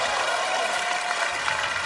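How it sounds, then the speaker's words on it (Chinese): Audience applause filling a crosstalk comedy theater performance, a steady, dense wash of clapping sustained throughout without a break. "我们掌声鼓励喽"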